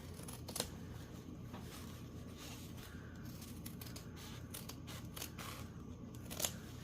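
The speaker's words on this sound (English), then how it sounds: "I'm using my good fabric scissors for this, because we're going to be able to just chomp straight through this with a few snipperoos." Fabric scissors snip through fabric for a soft journal cover, a series of close, crisp crunching cuts with short pauses between them, quiet overall and with no talking.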